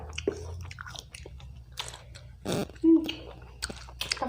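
Eating sour tamarind dipped in a spicy sauce of chili flakes, instant noodle seasoning, MSG and fish sauce: close, wet chewing and a few crunchy bites, with faint murmuring voices.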